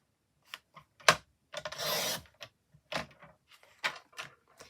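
Paper is cut to size for a notelet album, with short scraping and sliding strokes and one longer rasping cut, quiet and close, interspersed with soft taps and handling.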